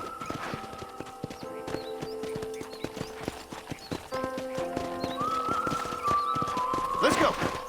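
Rhythmic clip-clop of horse hooves at a steady gait in the video game Red Dead Redemption, close and clear, with music playing and a horse neighing near the end.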